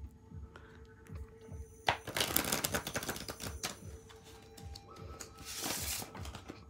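Oracle cards are riffled and shuffled up close in quick bursts of crisp fluttering and snapping, separated by brief pauses and soft handling noises.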